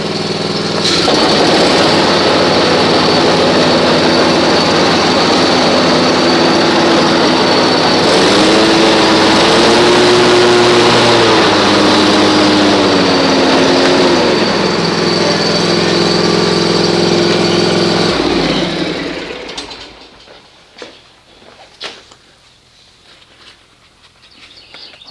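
A Hustler Trimstar mower fitted with Fisher Barton Laser Edge blades runs loud and close in a steady engine drone with a whining blade tone that rises briefly, then shuts down near the end, leaving faint ambient sounds.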